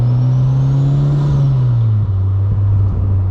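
Turbocharged Mazda NB Miata with a Flyin Miata turbo kit, GT2560R turbo and straight pipe exhaust, droning loudly from close by, the pitch rising slightly then dropping as revs ease off, with a faint whistle above.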